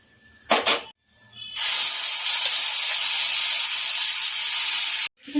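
A hot tempering of cumin, bay leaf and dry chilli hits a pot of dal with a brief crackle, then a loud, steady sizzling hiss that runs for several seconds before cutting off abruptly.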